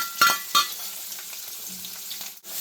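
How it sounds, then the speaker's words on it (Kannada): Chopped onions frying in a pan with curry leaves and green chillies for hotel-style onion dosa, a soft continuous sizzle broken by two clinks of a stirring utensil against the pan early on. "ಈರುಳ್ಳಿ ಚೆನ್ನಾಗಿ ಫ್ರೈ ಆಗಿದೆ"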